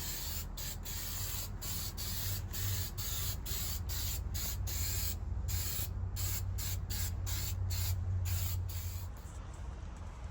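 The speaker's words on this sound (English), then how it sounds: "We're going to put a fresh coat of spray paint on it." Spray paint hisses steadily from a can as a tool bay inside a bus gets a fresh coat, a continuous close-up spray broken near the end by rapid stuttering pulses.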